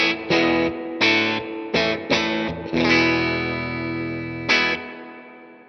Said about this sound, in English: I'm going to bring the dwell back down, but the reverb level up